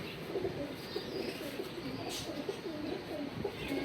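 Pigeons coo softly in a loft, low repeated throaty calls close by, with faint rustling and a brief flutter in the background.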